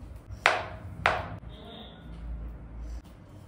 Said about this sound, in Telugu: బనానా కూడా కట్ చేసుకున్నాం